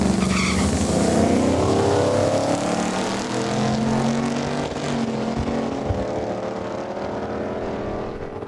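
Two Dodge Ram trucks drag racing side by side at a street-legal heads-up event at Saskatchewan International Raceway, engines roaring loudly and steadily throughout, with rising pitch and some tire noise, no voices.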